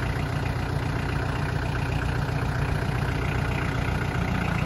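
Steady, smooth idle of a Dai Thanh VIP 551C Turbo engine, a Japanese-made limited European-export machine, holding an even low rumble close by for the whole stretch with no voices.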